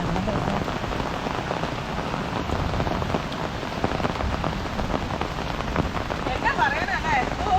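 Heavy rain falls steadily on a village road in Kerala, a dense close wash of drumming drops continuing throughout without a break.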